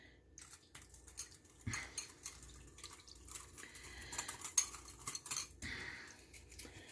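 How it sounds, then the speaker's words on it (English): A whisk beats yogurt into lime jello in a bowl, producing rapid, uneven metallic clinking and tapping against the bowl's sides, close and moderately quiet, mixed with light wet dripping sounds. "Oh, it says to whisk it."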